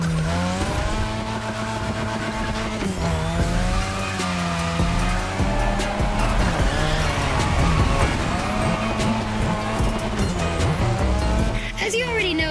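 Car drifting on a drift track in the Motorfest racing video game: a continuous engine roar with wavering pitch and repeated long tire squeals, with a voice speaking over the top.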